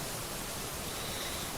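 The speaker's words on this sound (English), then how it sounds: "You can hear the waterfall in the background," Steady, hissing rush of a waterfall near a mountain lake campsite fills the background, constant and fairly faint, with no voices.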